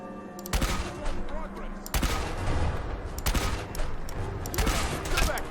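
Mortar rounds striking a target in Fallout 4, landing as a series of sharp, loud impacts in quick succession amid constant battle noise, with no large explosion.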